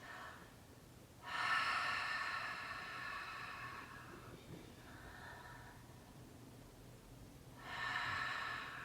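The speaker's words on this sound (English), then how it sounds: "breathe in a way that it sounds like you're fogging a mirror with your breath." Deep ujjayi breaths through an open mouth, like fogging a mirror, during a yoga sun salutation session: two loud, breathy exhales with a softer one between, close and alone with no talk.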